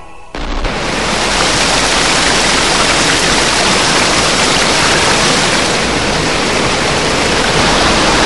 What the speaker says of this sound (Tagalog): Ang lakas ng ragasan ng tubig! Rumaragas ang tubig!